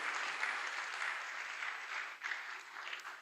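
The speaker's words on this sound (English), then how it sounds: "Can we give him another round of applause?" Sustained audience applause at a mobile app launch event, a dense steady patter of many hands clapping close by for about three seconds with a brief dip near the end.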